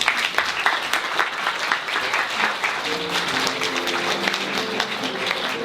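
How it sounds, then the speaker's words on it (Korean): A church congregation welcomes a missionary to Cambodia with sustained clapping, dense and even, while faint music or tonal hum rises beneath it in the second half. "우리 같이 우리 박수로 환영해 주시죠"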